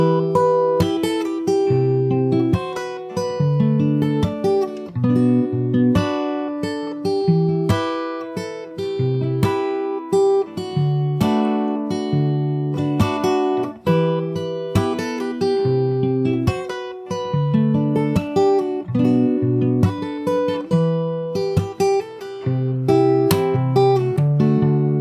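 Plucked acoustic guitar plays the fingerstyle verse of a song, with a steady bass line under picked melody notes that ring out in a continuous flowing pattern. It sounds close and plays alone, without speech.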